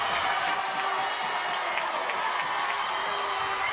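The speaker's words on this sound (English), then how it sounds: "And he sends this home crowd into a frenzy." Home crowd at an intermediate league baseball World Series game in Livermore cheering and applauding after a home run, a steady, dense roar of clapping and shouting that holds at full strength throughout.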